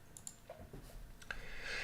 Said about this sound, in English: Oops, sorry, clicking on the wrong screen.